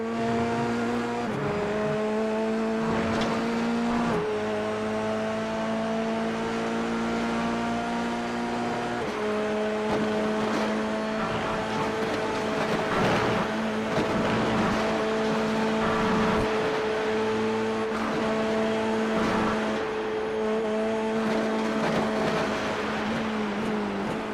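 Onboard sound of an AMX Global Dallara F3 race car lapping Virginia International Raceway, a loud, steady high-revving engine whine rising and falling through gear changes for the whole stretch, with no one talking.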